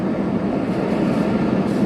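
A train rumbles along a railway beside the M6 motorway in Thailand, a loud, steady low roar that fills the whole short stretch without any voices.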